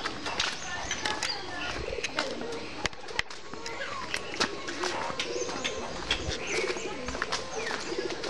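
Pigeons coo and flutter inside a master breeding loft, a dense, busy chorus of overlapping calls and wing clatter that fills the space beneath someone speaking.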